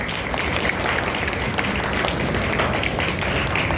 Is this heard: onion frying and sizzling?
no